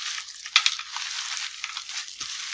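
Rice paper salad with kumquat being tossed by hand in a tray, a soft continuous rustle and crackle with a couple of sharper clicks, fairly quiet and close.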